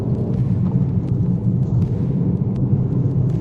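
A Maruti WagonR entry-level car accelerating in 4th gear, a loud, steady low engine drone and road rumble heard from inside the cabin, with no talk.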